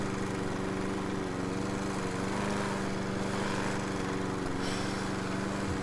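Lawn mower engine from a lawnmower video game, a continuous buzzing drone with a steady tone that stays loud and unbroken throughout.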